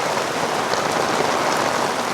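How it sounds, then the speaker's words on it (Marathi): Heavy monsoon downpour in a hidden spot in Golap, Konkan: a dense, steady roar of rain pouring down, loud and continuous with no voices. "एकदम मुसळधार जोरदार पाऊस चालू झाला"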